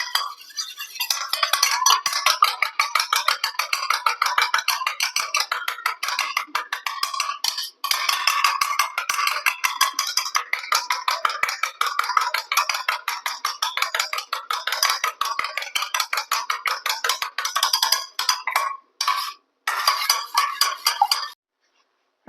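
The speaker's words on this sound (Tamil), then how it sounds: "அதுக்குள்ளே வந்து நம்ம முட்டையை வந்து இப்படி பீட் பண்ணி எடுத்துக்கலாம்." Eggs beaten by hand in a bowl for a KFC-style fried chicken batter: a fast, steady run of light clinking whisk or fork strokes against the bowl, close and continuous, with a few brief pauses near the end and no talking.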